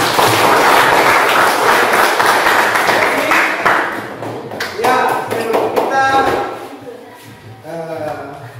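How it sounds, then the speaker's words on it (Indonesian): Students in a classroom give a burst of applause, dense loud clapping that gradually thins and fades, followed by a voice talking. "sekali lagi Pak Guru minta kalian untuk berikan aplaus untuk kita sekali"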